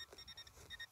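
Quick electronic beeps from a metal detector pinpointer chirp in short repeated bursts, high-pitched and quiet against faint background noise, while hunting for meteorites in Sweden.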